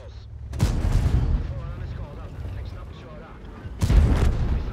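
Tank cannon fire in the online game World of Tanks: two heavy booming shots a few seconds apart, each a sharp loud blast followed by rumbling decay, with a low background hum between them.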